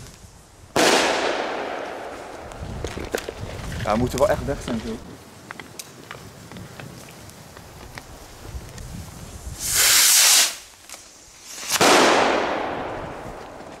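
Belgian fireworks set off outdoors: loud whooshing, hissing bursts near the start and again twice toward the end, with scattered crackling pops between, while people talk.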